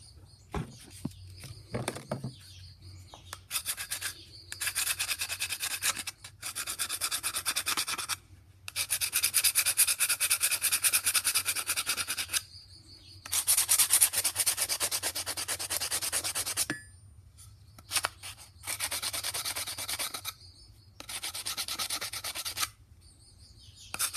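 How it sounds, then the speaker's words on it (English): Repeated bursts of rough, raspy sandpaper strokes on the wooden handle of an old Kent pattern carving axe, each lasting a few seconds with short pauses between, close and fairly loud. "let me go grab some sandpaper, and we'll give this thing a light sanding"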